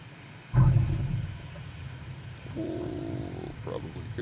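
An airplane touching down in a flight simulator game: a sudden heavy thump of the landing, then a steady engine drone with a higher whine joining, no speech.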